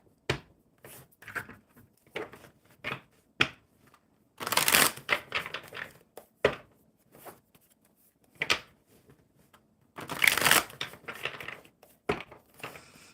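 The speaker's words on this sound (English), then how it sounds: "I will shuffle the cards." Oracle cards are shuffled by hand in repeated bursts of riffling and sliding, crisp papery flutters separated by short quiet gaps, close to the microphone, with no talking.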